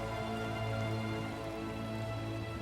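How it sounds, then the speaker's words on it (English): Rain in the video game Minecraft falls as a steady, soft hiss, continuous and even, heard alone under a quiet background. "Of course, there's rain, so that's good. This environment rains."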